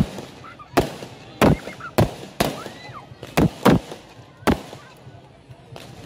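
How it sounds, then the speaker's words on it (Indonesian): Fireworks burst over the Cap Go Meh festival at Pura Mangkunegaran, a series of sharp, loud bangs spaced irregularly over a continuous crowd murmur, with faint honking and chatter in between. "ini dia pesta kembang api kita di malam hari ini yang sangat-sangat meriah"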